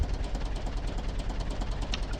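Tractor engine idling in the farming game Professional Farmer 2014, a steady low rumbling drone with a faint knocking pulse, continuous and close with no talk.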